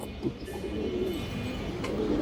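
A Giribaj pigeon gives a low, continuous cooing murmur, fairly close, over a steady background hum with a brief higher chirp near the end.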